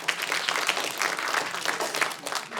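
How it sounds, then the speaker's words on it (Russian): An audience at a Russian-language stand-up comedy concert claps steadily for a few seconds, a dense, even patter of many hands with no voices over it. "Немножко более радостные аплодисменты для такой информации, чем я думал"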